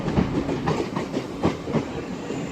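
A train pulls out of Lewisham station, its wheels beating a steady, loud clickety-clack rhythm over the rail joints as the carriages roll past close by, with no voices.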